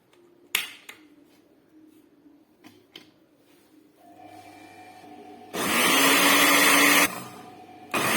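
An electric blender whirs loudly for about a second and a half as it mixes ground sesame with oil into tahini, following quieter kitchen clatter and handling knocks.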